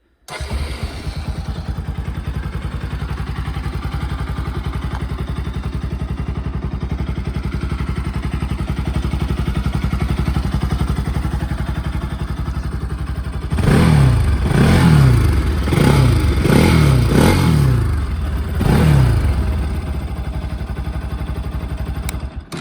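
A motorcycle engine starts and idles with a steady low rumble, then revs up sharply several times in quick bursts before settling back to idle, loud and close; the exhaust is fairly quiet.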